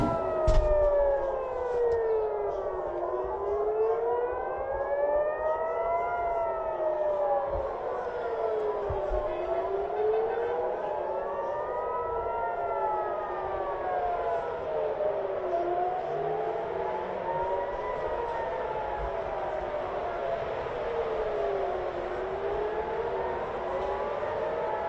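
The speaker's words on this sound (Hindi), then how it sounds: "पूरे तेल अवीव में सायरन बज रहे हैं" Several civil defense air raid sirens wail together across Tel Aviv, their tones rising and falling in overlapping slow sweeps, with faint distant traffic and voices underneath.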